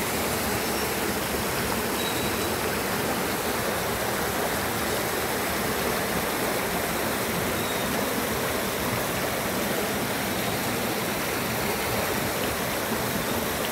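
Falling water splashes in a continuous, dense, loud rush at a park site, a steady broadband roar that holds without break, with no talk.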